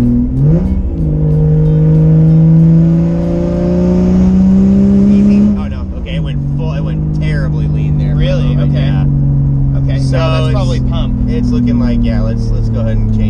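A turbocharged Toyota Supra engine, a naturally aspirated build converted with an eBay turbo, revs hard through a pull, its loud rising tone dropping at a gear change then climbing again while people talk over it.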